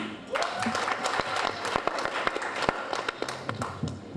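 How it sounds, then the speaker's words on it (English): Audience applause at a UAPB Founders Celebration event after Ms. UAPB is introduced, a moderately loud spread of clapping with scattered sharp claps, steady through the stretch. "Give her another round of applause."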